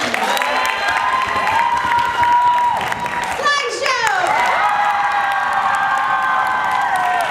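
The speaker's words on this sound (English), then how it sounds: "Applaud now if you enjoyed silent tension" An audience at a school comedy improv show applauds and cheers for a team, with a loud, sustained crowd roar, whoops and children's shouts over steady clapping, and a voice speaking briefly near the start.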